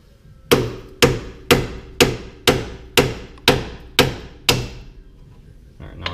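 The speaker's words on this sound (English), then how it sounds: "I'm gonna have to hit it with a hammer just to break it loose" Eight sharp metallic hammer blows strike a seized strut bracket on a GMC Envoy at a steady, even rhythm about half a second apart, loud and close, each ringing briefly before the next strike.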